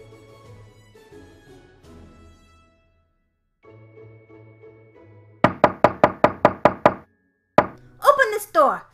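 Rapid series of about seven loud, close knocks pounding on a door in an animated Monster High episode, following quieter talk and tense music, with a shout afterward.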